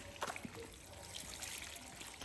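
Water trickles and splashes unevenly as it is poured over a child's feet outdoors in a village setting, close and fairly quiet, with brief soft voices in the background.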